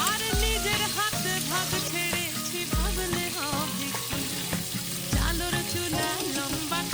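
Prawns frying in a pan, a continuous dense sizzle and crackle with occasional low thumps, fairly loud and steady throughout.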